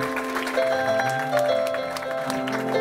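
A church congregation applauds after a prayer, a steady wash of clapping with a faint voice and sustained tones beneath it.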